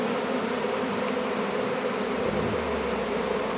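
Honey bee drones and workers buzz steadily and close up in a dense, continuous hum around a hive during springtime, with no voices.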